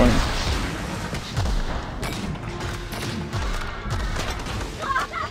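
Rapid gunfire in The Outer Worlds, a run of repeated shots rattling through a dense game mix with continuous low thuds, loud and close, with a voice speaking briefly over it.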